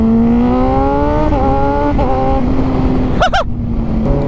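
A motorcycle with a quick shifter accelerates hard. The loud, close engine note rises steadily in pitch and is broken by quick, clean upshifts, with a rough burst of noise near the end.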